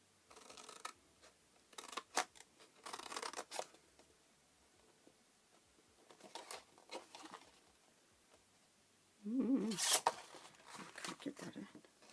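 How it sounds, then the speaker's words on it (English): Card being cut with scissors while making a small gift box to hold cards and envelopes: quiet, scattered snips and paper rustles come in short bursts, with a louder crinkling handling sound near the end. "just at the moment we'll finish cutting it up"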